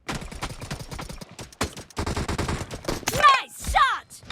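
Rapid bursts of automatic gunfire from a shooter video game on a POCO F1 phone, dense crackling volleys in the first half, then a pause and renewed firing alongside brief game sounds near the end.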